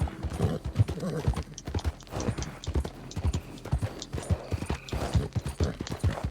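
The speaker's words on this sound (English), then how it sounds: "God, this horse is so pissed off." Horse in Red Dead Redemption 2 on the streets of Saint Denis, hooves clip-clopping in a steady, close rhythm with occasional agitated whinnies and snorts over a busy game background.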